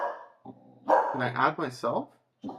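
A dog barks and grunts in the background of a home office while someone talks over it, with short bursts mixed in among his speech.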